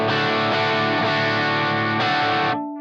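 A heavily distorted electric guitar chord through a Blackstar JJN 50 amp simulator, played with a pick, rings out loud and sustained, struck again near the end before cutting off.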